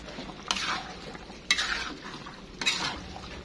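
Capcay vegetables being stirred in a wok, with three distinct scraping clanks of the utensil against the metal about a second apart over a low sizzle, close up and with no voices.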